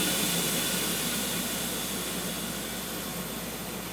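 Air suspension bags on a supercharged M122-equipped car venting fully, a steady loud broadband hiss of escaping air that holds continuously and fades slightly toward the end, no talking.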